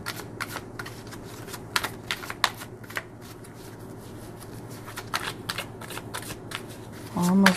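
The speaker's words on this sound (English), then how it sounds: "Almost done with the shuffling part." Tarot cards being shuffled by hand, a steady run of soft riffling flicks close by, with a brief voice at the very end.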